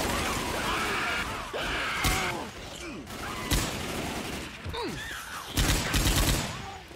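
Light machine gun fire in Left 4 Dead 2 comes as repeated loud bursts of rapid shots, with gaps between bursts and a voice talking over parts of it.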